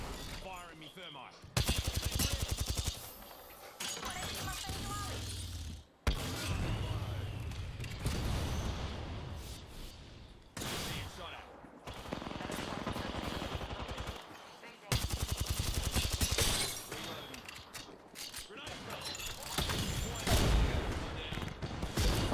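Gunfire from two enemy teams in a video game, repeated loud machine-gun bursts and shots filling the scene in waves, with a player talking over parts of it.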